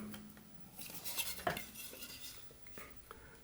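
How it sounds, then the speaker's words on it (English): A whittling knife presses a stop cut into a wooden wizard plant stake, making faint close scraping and a couple of short sharp clicks against quiet room noise. "So I'm just going to take my knife and kind of put it right down like that. Put a little stop cut in."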